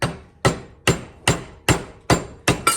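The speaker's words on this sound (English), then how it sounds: "Use this massive hammer and this screwdriver" A massive hammer strikes a screwdriver being driven under a dowel wedge at a workbench, seven sharp metallic blows in a steady rhythm, each about 0.4 seconds apart, loud and close with no talking.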